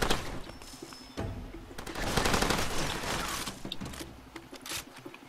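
Gunfire at night in the video game Far Cry 2, a stretch of rapid automatic bursts and scattered shots, moderately loud with short gaps between volleys.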